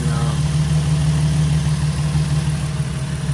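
A Nissan 350Z engine idles after a radiator replacement and coolant flush, giving a steady, fairly loud low hum that stays even throughout with no revving.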